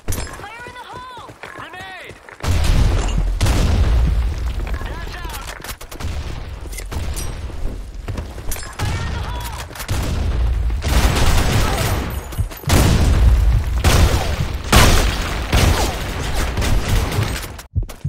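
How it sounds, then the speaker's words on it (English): Heavy booming blasts and chaotic gunfire in the shooter game Blackshot, loud after a quieter opening, with a voice talking over the action. "Fire in the hole! Grenade!"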